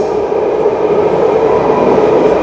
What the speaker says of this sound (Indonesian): Nah ini kereta telah tiba ya,